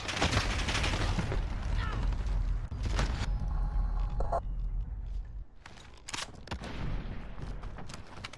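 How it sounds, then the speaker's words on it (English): Rapid automatic gunfire rattles through a video game deathmatch at a dockyard, dense volleys with sharp individual cracks and short pauses between bursts, over a rumbling battle backdrop. "I'm under fire!"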